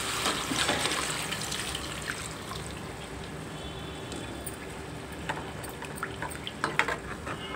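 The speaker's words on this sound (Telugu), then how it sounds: "వాటర్ అయితే వేసుకుంటాను." Water poured into a pan of egg curry with tamarind leaves and tomato, a sustained splashing, gurgling flow with a few sharper clinks and splashes toward the end, no speech.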